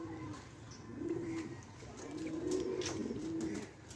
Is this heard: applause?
no